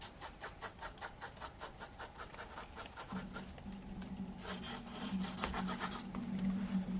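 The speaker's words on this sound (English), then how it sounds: "So let's try normal sharpener now." A pencil sharpened in an ordinary hand sharpener gives a steady series of rapid, rhythmic rasping scrapes up close, then shifts to a rougher, denser grinding with a low hum underneath.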